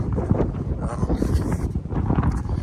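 Cold wind buffets the microphone during an outdoor run, a steady loud rumbling roar filling the whole moment with no clear voices.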